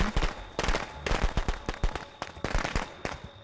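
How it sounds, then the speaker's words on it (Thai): Firecrackers go off in the Friday the 13th video game, a loud, dense volley of sharp popping bangs in rapid irregular succession throughout, close by and with no talk over them. "จะมีประทัดด้วยว่ะ"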